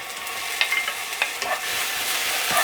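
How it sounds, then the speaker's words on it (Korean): Minced garlic and chopped scallion sizzle gently in two spoons of oil over low heat, a steady close frying hiss punctuated by a few light spatula scrapes and taps, with no voices. "약한 불에서 볶아주세요"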